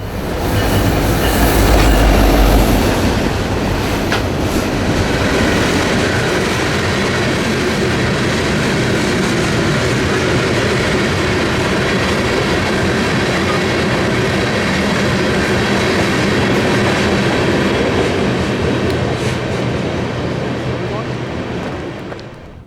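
A Canadian National freight train hauled by a heritage-painted locomotive rolls past close by, a steady loud roar of wheels and railcars with rhythmic clacking that holds for over twenty seconds before easing slightly.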